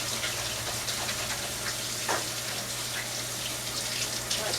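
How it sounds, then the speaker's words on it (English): Hands rinsed under a running kitchen tap, a steady close hiss of flowing water with small splashes, alone without any voices. "I'm going to just wash my hands very quickly"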